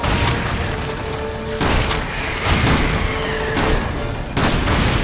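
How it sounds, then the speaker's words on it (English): Loud booming blasts from pipe bombs in the video game Resident Evil 6, several heavy explosions in a dense, continuous stream of game noise with no pause between them. "I have a bunch of pipe bombs. I'm not afraid to use them."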